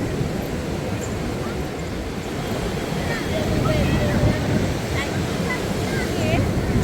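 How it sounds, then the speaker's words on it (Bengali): Loud, steady roar of heavy tide waves surging at Puri beach, continuous broadband wash with wind buffeting the microphone and faint birdlike chirps above. "জোয়ারের জল প্রচণ্ড প্রবল মানে জলের তেজ জলের গর্জন ঢেউ আলাদাই লেভেলের"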